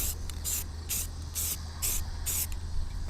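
A Rust-Oleum spray paint can coats a boat seat in five or six short, even hissing bursts, released at a steady rhythm over a low background hum.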